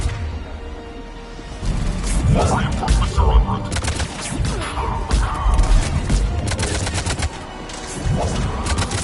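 Combat gunfire in the video game Mass Effect 3, dense bursts of shots and automatic fire rattling steadily throughout, with a brief lull near the start and another toward the end, mixed with thuds and crashes.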